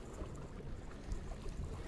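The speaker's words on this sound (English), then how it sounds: "it is windy out here today" Faint wind rumbles and buffets against the microphone in soft gusts, with no voices.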